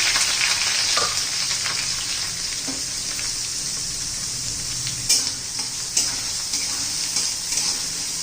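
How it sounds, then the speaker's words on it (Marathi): Onion and curry leaves frying in a wok, a loud continuous sizzle with stirring scrapes and a few louder clatters of the spoon against the pan, with no voices. "कांद्याचा कच्चेपणा जाईपर्यंत आपण परतून घेणार आहोत."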